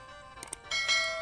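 A notification bell sound effect: two quick metallic dings, followed by a brighter sustained chime that rings on steadily to the end, clear and fairly close.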